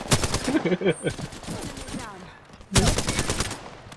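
Rapid automatic gunfire in a ranked online shooter match: a dense burst of shots, a short pause with scattered rounds, then another loud volley, all close and sharp.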